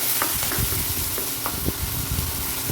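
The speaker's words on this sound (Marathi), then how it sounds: "आता गॅसची फ्लेम लो करते आणि लो फ्लेमवर कांदा शिजवून घेते" Onion cooks in oil over a low flame, a soft steady sizzle with intermittent scraping and stirring knocks from a utensil in the pan, close and continuous.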